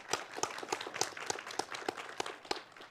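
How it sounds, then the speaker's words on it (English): Applause from a conference audience after a talk at code::dive 2024: a small crowd clapping in sharp, fairly regular individual claps, close and clear, with no voices. "big round of applause for the presentation."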